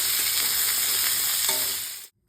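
Vegetables with turmeric and salt fry in a kadai, a continuous close sizzle with faint stirring that cuts off abruptly at the end.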